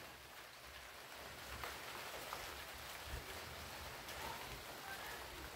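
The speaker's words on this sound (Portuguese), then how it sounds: "Os primeiros pingos de chuva no carro." Light rain falling on a car after a long dry spell in Betim, Brazil, a soft steady hiss of drops with a few faint distinct taps, quiet and continuous with no talking.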